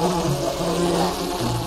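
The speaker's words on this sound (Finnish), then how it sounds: "punainen väri houkuttelee luokseen pienen raidallisen mehiläisen, joka kuulostaa tältä" A small striped bee buzzes in a steady, close drone with a slightly wavering pitch, heard on its own without talk.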